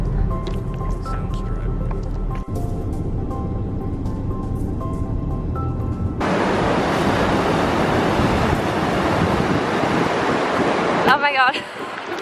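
Loud, rushing glacier water sprays and roars nearby with heavy wind buffeting, following a quieter stretch of murmuring talk.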